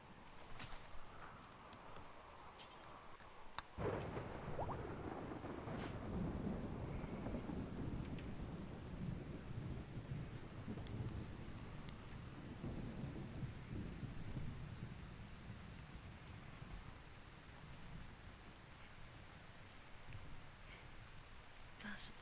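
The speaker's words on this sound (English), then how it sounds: "you just had to make it start raining" Rain and rolling thunder in the video game RimWorld, a steady faint wash of rain with low rumbles throughout, under a person talking.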